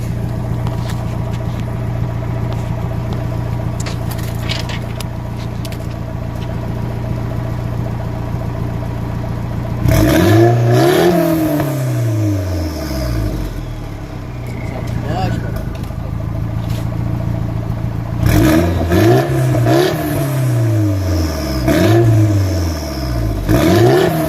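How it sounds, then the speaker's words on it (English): Nissan S14 with an SR20DET engine, new exhaust and test pipe, idling with a low steady drone, then revved in two bursts of sharp rising and falling sweeps, loud and close. "The test pipe kind of off-centered the exhaust a little bit, but it's still sticking out the same, which is good. Here's what it sounds like"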